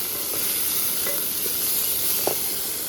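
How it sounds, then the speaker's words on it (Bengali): Salted food sizzles steadily in a hot frying pan, a constant bright hiss with a few soft stirring clicks and scrapes, close and loud with no talking. "আর দিয়ে দেবো লবণ। এবার সুন্দর করে ভেজে নেব।"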